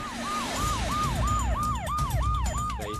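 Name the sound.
ambulance siren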